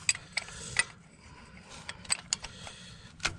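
Wrench working loose the last starter nut on a Kenworth truck outdoors in snow, heard as a few sharp metallic clicks and ratcheting ticks spread unevenly over a quiet background, with no talking.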